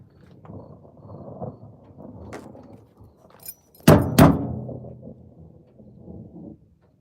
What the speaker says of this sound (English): I think that's just noises of the truck